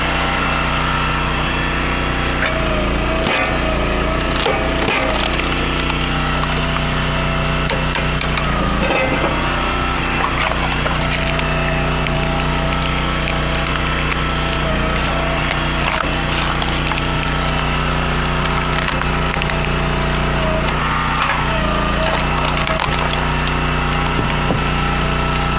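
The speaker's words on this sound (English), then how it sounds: "What seems to happen with this splitter is it pushes in and it needs to build pressure before it'll push through." Entry-level log splitter with a 4-way wedge and log lift, its small engine droning steadily while the wedge builds pressure and forces through a log, with sharp splintering wood cracks scattered across the run; no talking.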